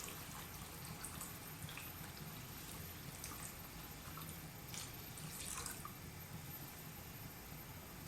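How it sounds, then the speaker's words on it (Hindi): Milk is poured into wheat porridge cooking in a pot, a faint, steady liquid trickle with soft drip-like splashes over low background hiss, with no talking. "बस इस टाइम पे अब आप इसमें दूध डाल दें।"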